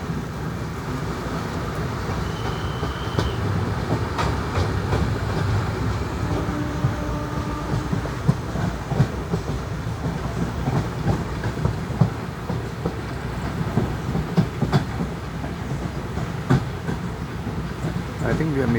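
An express train at Kumta station running onto the loop line, a steady rumble of wagons with irregular clickety-clack of wheels over track joints, heard from inside the train, with occasional voices nearby.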